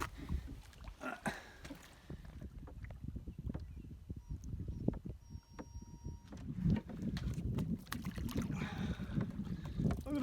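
Paddle strokes splash and knock against a canoe on water, close by, with wind buffeting the microphone.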